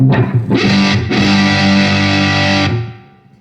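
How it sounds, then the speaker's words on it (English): Heavily fuzzed electric guitar chords through a Wren and Cuff White Elk fuzz pedal ring out loud and saturated, a couple of quick strums followed by a sustained buzzing chord that fades away. "let's increase the distortion even more"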